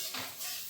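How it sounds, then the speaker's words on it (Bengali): Fried rice being stirred in a pan at home, a brief burst of scraping and sizzling lasting under a second, fairly close. "এখন মা ফ্রাইড রাইসটা বানাচ্ছে।"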